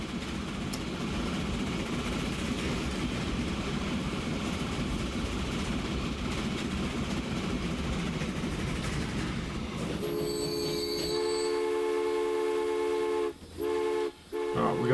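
A train running in the video game Transport Fever, a steady, loud rumble of rolling wheels on track that later gives way to a sustained tonal whine, with no talk.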